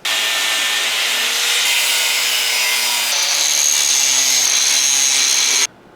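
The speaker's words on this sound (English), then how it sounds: "I'm gonna take my chances with the cutoff wheel and try to remove some material from the other ones first" Cutoff wheel slicing through metal spikes on a large steel wrench being made into a short sword, a loud continuous high abrasive whine and hiss that shifts pitch partway through, then stops abruptly.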